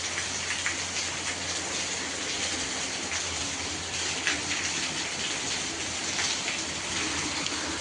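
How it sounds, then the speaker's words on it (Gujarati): Heavy rain pours down in a dense, steady hiss of drops that fills the whole span without a break. It is loud and even, and no voices are heard. "જબરજસ્ત વરસાદ ચાલુ થઈ ગયો"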